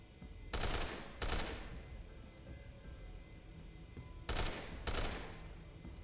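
Bursts of automatic gunfire in Resident Evil 6, aimed at an invincible sensor: two short volleys early, then two more a few seconds later, loud and sharp over quiet game ambience.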